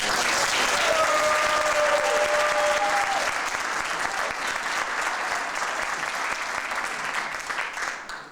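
An audience gives sustained, dense applause for the 1999-2000 varsity team at a school sports event, holding strong throughout before fading slightly at the close, with a faint voice early on.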